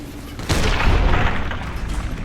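A single shotgun blast in Fallout: New Vegas, a loud, deep boom with a rumbling tail, heard alone.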